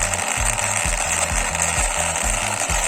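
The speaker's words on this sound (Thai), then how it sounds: "เป็นเสียงของใบพัดที่หมุนอยู่ข้างในนะ" A small motorized fan whirs steadily inside a Kamen Rider toy transformation belt, with a repeating low mechanical chug in a quick, even rhythm and no talking.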